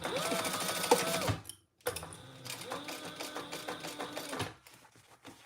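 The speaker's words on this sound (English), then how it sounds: "Okay, we're stitching down the other side." A sewing machine stitches a trifold wallet in two steady runs of about a second and a half and two and a half seconds, separated by a short pause, then stops into quiet handling noise.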